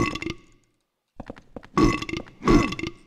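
Wet, guttural monster burps in the Silent Hill 4 game, a few short grunting bursts followed by two loud, drawn-out belches close up, with no talking.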